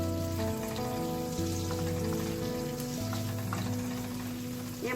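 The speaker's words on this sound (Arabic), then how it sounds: "هدي للبصل تشويحه" Onions sautéing in oil in a pan produce a continuous, even crackling sizzle, with sustained tonal sounds running underneath.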